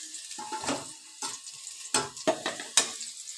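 Potatoes and nigella seeds frying in oil in a pan, a soft sizzle under a run of uneven scraping stirs and light clatters from the utensil, fairly quiet and close.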